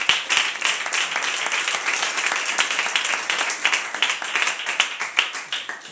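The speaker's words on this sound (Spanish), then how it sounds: "Si quieres dar un aplauso" A church congregation breaks into applause during a sermon, dense overlapping hand claps filling six seconds at a steady, lively level with no speech.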